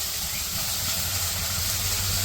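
Chili powder sizzles in hot oil in a village kitchen pan after frying fish, onions and turmeric, giving a steady, close hiss with no pause.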